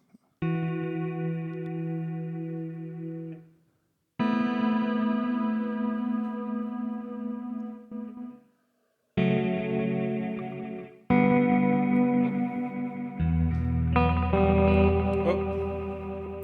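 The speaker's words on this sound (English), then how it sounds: "is there almost a shimmer type of effect?" Sustained electric guitar notes and chords through a Strymon DIG delay pedal bloom with a lush, shimmering reverb tail, each phrase ringing out before pausing, heard alone without talk.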